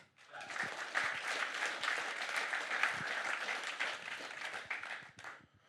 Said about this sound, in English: Give them a bit of an applause.